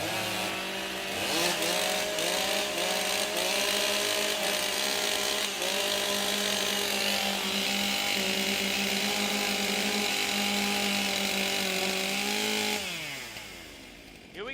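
Several chainsaws idling and revving together while warming up at a STIHL TIMBERSPORTS competition in Australia, a loud continuous droning engine roar that holds steady before dropping off near the end.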